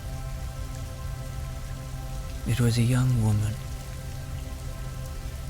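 Steady rain patters on surfaces as a soft, even wash beneath a calm narrating voice in a soothing bedtime story, with a brief swell of louder sound midway.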